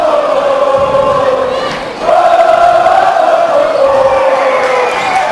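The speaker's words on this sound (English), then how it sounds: "both crowds are getting into this one so far" Home and away crowds in a packed high school gym roar and cheer steadily through a second-round boys basketball playoff game, with a brief dip before the noise surges back loud and sustained.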